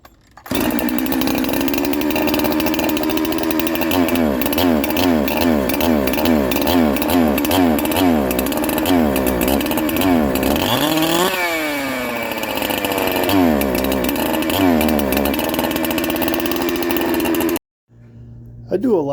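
A Holzfforma G372 chainsaw runs loud and close while its carburetor is being tuned, engine revving up and down in rapid repeated surges, dipping briefly midway, then cutting off near the end before a short restart burst.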